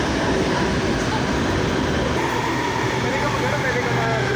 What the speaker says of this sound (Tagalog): At ito na yung sasakyan natin LRT.